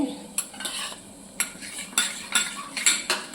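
A spoon clinks and scrapes repeatedly against a bowl while stirring a wet, soaked spice mixture, close and fairly loud in irregular bursts.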